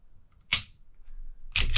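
Trigger of a PSA Dagger pistol clicking as it breaks and resets, two sharp, close mechanical clicks about a second apart against near silence.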